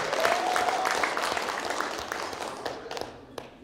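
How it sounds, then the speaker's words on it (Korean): Audience applause at a hotel graduation concert, a full burst of clapping that gradually thins and fades over a few seconds. "박수 보내주시기 바랍니다."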